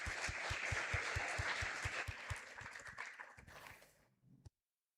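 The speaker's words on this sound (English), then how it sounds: "can we just give a quick round of applause for this session" Applause from a conference session audience fills the room with dense clapping that fades out over about four seconds, ending in a last few scattered claps before silence.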